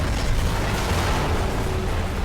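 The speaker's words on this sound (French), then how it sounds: "Ah, l'explosion, mon frère." A video game explosion in Sleeping Dogs, heard as a dense, loud, sustained roar of blast noise that fills the whole short stretch without a break.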